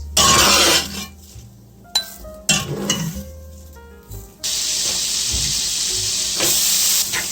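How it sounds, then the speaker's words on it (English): Onions sautéing in a hot pan for a pumpkin mac and cheese, with loud hissing sizzle, bursts of steam, and light clinks of a utensil against the pan. "So we're going to saute the onions, and we just want to get it slightly caramelized."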